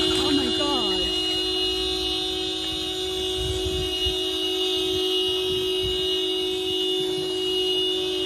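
Bus horn blaring as one long, steady, loud tone held for the whole stretch, with faint background sounds underneath.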